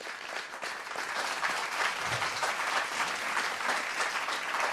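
Audience applause at a Tamil children's speech program fills the room as a dense, even clatter of many hands. It carries steadily for the full few seconds without a break.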